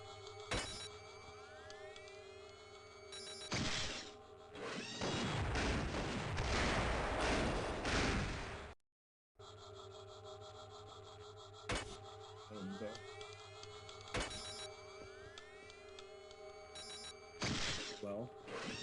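In a first-person shooter, a generator blows up on the far side of a wall after grenades go through it, a long roaring blast with crackling debris, followed by a short silence and then scattered sharp game effects.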